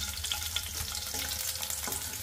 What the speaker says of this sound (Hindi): ज़्यादा हार्ड फ्राई नहीं करना है, ऐसे ही हल्का हल्का फ्राई कर लेंगे